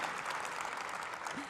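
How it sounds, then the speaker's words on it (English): Audience applauding a speech by the Speaker of the House at a Research America evening event, a brief dense wash of clapping from a crowd, fairly faint and distant, with no clear voices. "that's an applause line"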